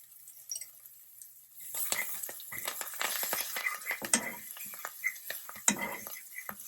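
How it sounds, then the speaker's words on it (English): Herbs and garlic drop into a frying pan, followed by light sizzling, stirring and clinks of a utensil against the pan, close by. "now that 1/4 of a cup of herbs and garlic that I held out, I'm adding to the frying pan"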